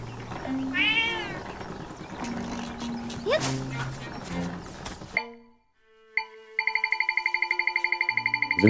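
A cat meows several times in the game Zelda: Echoes of Wisdom, rising and falling calls up close, with game sounds around it, then a brief hush before a rapid repeating chime-like jingle. Someone talks during the first half.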